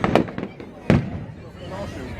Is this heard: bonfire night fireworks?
yes